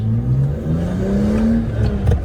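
A BMW E46 M3 with a valved sport exhaust revs up and down with a raspy exhaust note, loud and close, the pitch rising and falling over a couple of seconds.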